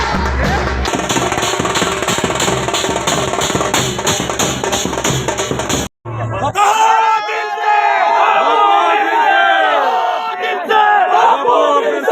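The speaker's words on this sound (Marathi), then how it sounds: "गुलाल उधळत ढोल ताशाच्या गजरात जल्लोष करण्यात आला" A crowd celebrates a union president's election in Solapur with dhol and tasha drums, dense pounding drumming for six seconds, then a brief gap before loud cheering, whistles and shouting voices take over.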